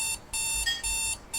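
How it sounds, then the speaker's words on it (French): Alarm clock beeping in steady repeated bursts, a bright electronic tone pulsing on and off at close range with no talk over it. "Mais chut le réveil là."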